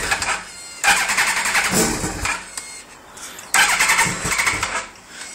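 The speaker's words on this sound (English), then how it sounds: "after you give it a little bit, it starts right up" A 2001 Yamaha R1 motorcycle engine starts on a cold day with the choke pulled, cranking and catching in two loud close bursts that settle briefly between them, with no voices.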